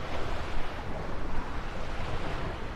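Strong wind roars steadily across the microphone on a cobblestone road along a EuroVelo cycling route, a dense low rumble with gusty swells, no voices present.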